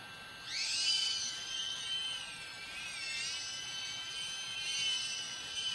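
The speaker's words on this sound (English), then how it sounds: "Motors sound healthy, like they're just spooling out really well." Motors of an Eachine US65 Pro 65mm micro FPV drone running on 2S, a thin high-pitched whine rising and wavering as they spool up in flight, steady and moderately close with no speech.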